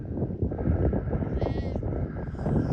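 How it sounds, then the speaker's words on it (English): Sheep bleat in the Dartmoor countryside, a close, wavering cry rising over a busy outdoor background of rustling and other noise. "That sheep must be well embarrassed."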